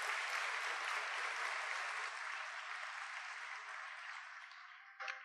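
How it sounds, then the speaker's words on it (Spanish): Applause at a graduation ceremony for technicians and technologists, a steady broad wash of clapping from a crowd that slowly tapers, with a short bump near the end. "El aplauso y reconocimiento para todos ellos"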